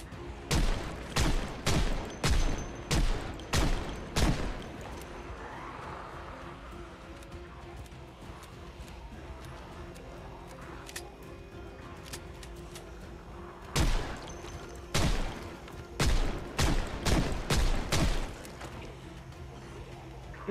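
Gunfire in the video game Project Zomboid arrives as two bursts of rapid, loud shots, one at the start and another later, separated by a long stretch of quieter game ambience.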